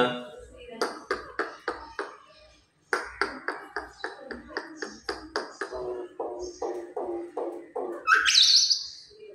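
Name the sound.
myna bird calling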